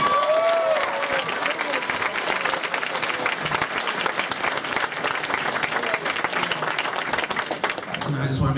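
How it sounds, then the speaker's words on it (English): A convention panel audience applauds the crew, with dense, sustained clapping that fills the room at steady volume for the whole stretch and fades slightly near the end. "So can I give them a round of applause,"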